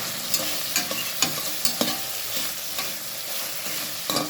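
Tomato masala with pepper powder stirred and frying in a pan for a country-chicken egg biryani: a continuous close sizzle broken by frequent scraping clicks of the spoon, with no voices.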